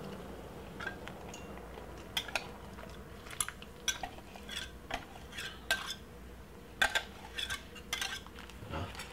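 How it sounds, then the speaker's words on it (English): Jamaican peanut porridge stirred in a pot, a metal spoon clinking and scraping against the sides in an irregular rhythm, close and fairly clear over a low background hum. "Give it a lovely mix"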